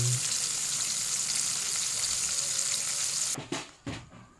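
Barbecue chicken fries in hot oil with a loud, steady sizzling hiss up close that cuts off near the end, followed by a couple of clattering knocks.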